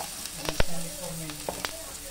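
Garlic and white onion stir-fry in oil with a loud, close sizzle, punctuated by a few sharp clanks and scrapes of a utensil against the pan.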